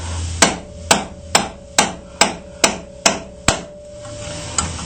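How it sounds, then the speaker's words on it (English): Valve seats in a cylinder head at an engine machine shop being driven in with a hammer: nine sharp, evenly spaced metallic strikes with a ringing tone, close and loud, no talking. "So now what we'll do is we're going to install them. We'll just drive them in."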